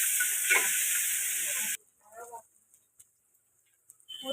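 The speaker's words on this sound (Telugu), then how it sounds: "చూడండి, ఉల్లిపాయలు కూడా వేస్తున్నాను." Onions frying in a pan give a loud, steady hissing sizzle that cuts off abruptly, followed by quieter sputters and a brief voice, then the sizzle returns faintly at the end.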